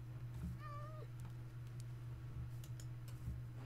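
A Minecraft cat gives one short rising-and-falling meow early on, clear above a steady low game hum with faint clicks after it.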